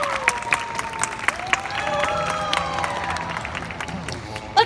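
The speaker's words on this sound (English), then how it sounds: "Let's give her a round of applause and cheer her on." A crowd at a sea lion show claps and cheers steadily, with whoops and shouts over the applause and a sharp loud burst at the very end.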